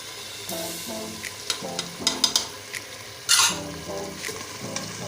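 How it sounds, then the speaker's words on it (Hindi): Black chickpeas (kala chana) frying in oil with lemon juice in a pan, with steady sizzling, stirring scrapes and a few sharp clinks of utensil on metal over background music. "इसको अब हम अच्छे से भूनेंगे।"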